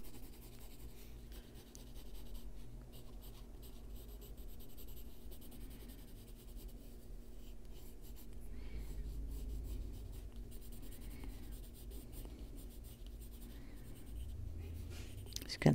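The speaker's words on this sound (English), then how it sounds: "So I just grabbed the brown ochre pencil form." A brown ochre coloured pencil scratches across paper in steady, close strokes, a soft continuous scratching with small rhythmic variations and no voices.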